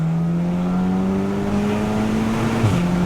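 A turbocharged 500 HP Audi S3 engine revs hard under full throttle in third gear from about 2,500 RPM, its pitch climbing steadily before a brief dip and recovery, loud and close with a constant roar throughout.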